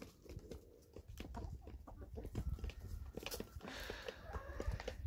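Chickens cluck and squawk repeatedly, close and busy, with scattered rustling and pecking noises around them.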